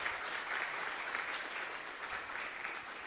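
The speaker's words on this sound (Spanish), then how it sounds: "Le damos un aplauso al Señor porque Él habla." A church congregation claps in steady, even applause, moderately distant and quiet, with no other sounds standing out.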